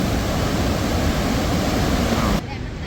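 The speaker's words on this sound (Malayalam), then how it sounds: "എന്താ ഒഴുക്ക് വെള്ളത്തിന്റെ," Khon Phapheng waterfall in Laos: a powerful, constant roar of rushing water, loud and close, cut off abruptly near the end.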